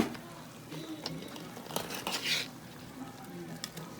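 A spoon works through Louisiana-style gumbo in a pot, soft scraping and stirring strokes over a low bubbling sizzle, with a few louder clinks and splashes midway.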